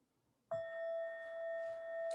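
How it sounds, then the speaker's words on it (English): A single bell struck once rings out cleanly and sustains a steady, pure tone that hangs in a quiet room without fading much. "I'm going to ring the bell"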